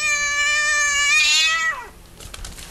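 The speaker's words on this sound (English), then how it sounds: "Damn cats." A cat gives one long, loud, drawn-out meow with a wavering pitch that falls away near the end, followed by quiet rustling.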